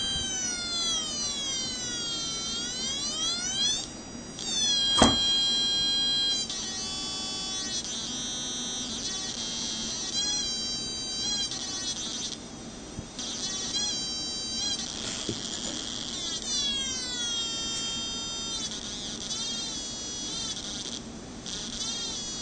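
Electronic stepped tone sequencer circuit sounding a continuous buzzy, whining string of shifting tones that sweep and jump in pitch, steady and fairly loud, with a sharp click near the start and no voices.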